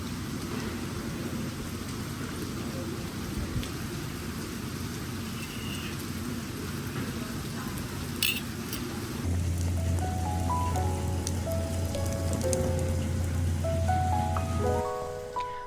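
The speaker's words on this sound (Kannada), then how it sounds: "ಮಳೆ ಬೀಳ್ತಾ ಇದೆ" Steady rain pours down at a private beach resort in Pondicherry during a cyclone, a continuous hiss that persists as music rises over it partway through.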